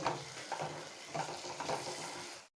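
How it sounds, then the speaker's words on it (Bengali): Potatoes and spices sautéing together in a pan for onion-and-garlic-free vegetarian ghugni, a soft, steady sizzle with rhythmic stirring scrapes, then a sudden cut to silence. "এবার আলু আর মশলা একসাথে কষিয়ে নেব"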